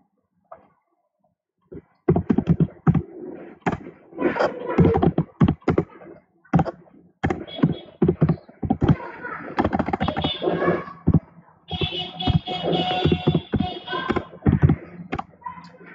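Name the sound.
typing nmap command on computer keyboard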